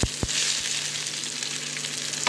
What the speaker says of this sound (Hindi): देखिए दोस्तों ऑयल गर्म हो गया, फिर मैं ऑनियन को दे रही हूँ फ्राई करने के लिए।